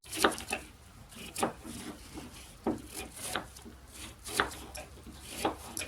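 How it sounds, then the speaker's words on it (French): A knife chops cored apples into small pieces on a board in uneven strokes, each cut a crisp close crunch with short pauses between. "on épépine les pommes et ensuite on les coupe en plus petits morceaux"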